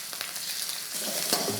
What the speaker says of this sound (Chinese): 下点油，然后我们先把这个虾煎一煎香啊